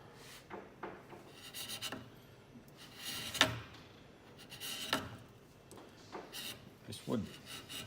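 A chisel works the wooden heel of a handmade ukulele, rounding it with faint, intermittent scraping strokes. Quiet speech runs over the carving.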